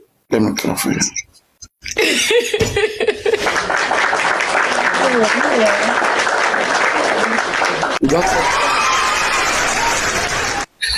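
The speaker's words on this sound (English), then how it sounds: "Let me clap for you." Clapping rises after a brief spoken moment and carries on as a dense, loud patter of hands for most of the stretch, with some voices, laughter and coughing mixed in.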